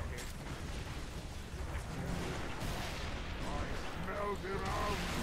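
Weapon fire in the video game Halo 3: ODST from a Spartan laser and a cannon, a dense rumbling burst of gunfire and mechanical blasts continuing throughout amid game noise, with a brief tonal whine near the end.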